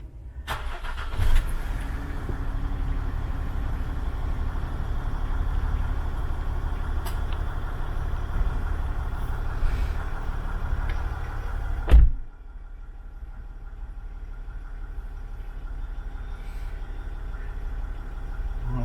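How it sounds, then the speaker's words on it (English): A Land Rover Discovery diesel engine cranks and catches, then settles into a steady, rumbling idle close by. It is cut off suddenly by a sharp knock and drops to a quieter, lower hum. "Start engine."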